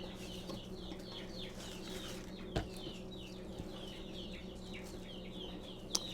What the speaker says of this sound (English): I've got chicks hatching all over the place, y'all, so if y'all hear a bunch of chirping in the background, that's what's going on